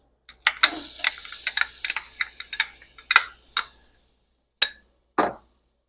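Half a small onion for chicken fricassee is dropped into hot oil, setting off a burst of crackling, spitting sizzle that tapers off, followed by two isolated short hisses after a quiet gap.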